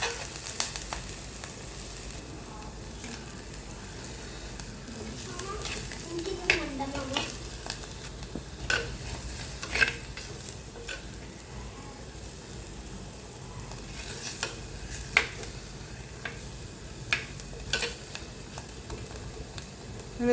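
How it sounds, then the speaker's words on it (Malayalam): Masala with turmeric powder sautéing in a pan on a low flame for fish curry, a soft continuous sizzle broken by intermittent scraping stirs of a spoon against the pan, fairly quiet and close. "നന്നായിട്ടൊന്ന് കുറച്ച് ചെറിയ തീയാക്കിയിട്ട് അതിൻ്റെ പച്ചമണം മാറുന്നവരെ ഇങ്ങനെ വഴറ്റി കൊടുക്കുക."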